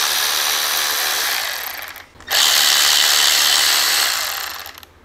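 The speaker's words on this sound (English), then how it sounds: "You're gonna have two T25 bolts back here. Go ahead and remove those." A power driver removes two T25 bolts from a car's license plate frame: two loud, close, steady whirring runs separated by a brief pause.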